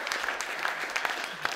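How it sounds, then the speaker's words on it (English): A crowd gathered for the Rabbit Run applauds Craig, the organiser, with brief, dense, steady clapping from many hands, close and even. "I think he deserves a round of applause"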